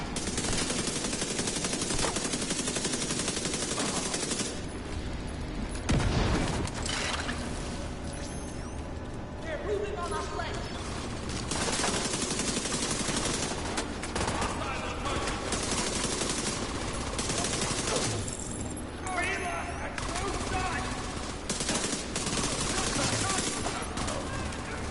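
Gunfire in The Division 2 shooter game, with electric bullets: sustained, heavy bursts of shots and rattling fire that run almost continuously, with a player talking over the fighting.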